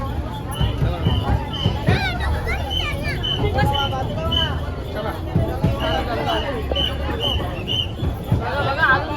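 Large crowd of people gathered at a bus stop for a village trip to Mhasa, a continuous hubbub of many voices near and far, with children's calls and nearby talk mixed in.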